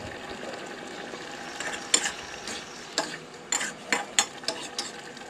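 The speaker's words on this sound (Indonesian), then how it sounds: "lalu aduk-aduk lagi" Beef rendang made with instant spice paste is stirred in a pot after the lid comes off, a spoon scraping and clacking in a run of sharp, irregular strokes over a soft background sizzle.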